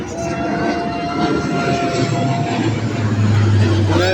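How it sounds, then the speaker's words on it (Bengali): A fighter jet passes overhead, a loud, steady engine roar that swells slightly toward the end, heard from a rooftop with some voices underneath. "শব্দ করে একটা যুদ্ধ বিমান উড়ে যাচ্ছে।"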